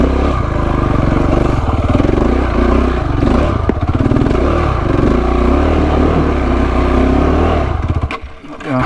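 KTM 690 Enduro single-cylinder motorcycle revving hard on a slippery wet hill climb, a loud, close, throbbing engine note with surging throttle blips and wheelspin, cutting out briefly near the end.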